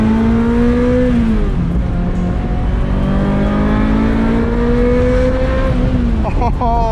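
A 25-year-old Ferrari's engine revs loud and close to 9000 RPM, its pitch climbing in long sustained pulls, dipping at a shift and rising again, with a quick rev blip near the end and a brief voice underneath.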